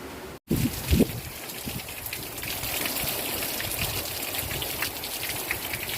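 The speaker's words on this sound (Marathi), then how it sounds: "पाऊस बघा तेवढा आला आहे" Steady monsoon-style rain pouring down on farm fields with a hissing, gushing wash, after a short sharp knock at the very start.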